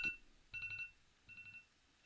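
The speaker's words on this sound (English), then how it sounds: "That was my alarm telling me to do laundry." A phone alarm goes off in two short bursts of rapid electronic beeps, each a quick run of four or five bright tones, the second burst a little softer, with quiet gaps around them.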